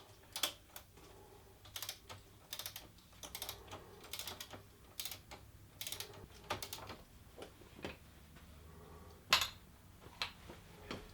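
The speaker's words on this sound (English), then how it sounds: "now my trusty torque wrench" A torque wrench being worked on a motorcycle wheel during a classic bike rebuild, giving a series of sharp mechanical clicks and ratcheting ticks spaced irregularly across the span, fairly close, with one louder snap near the end.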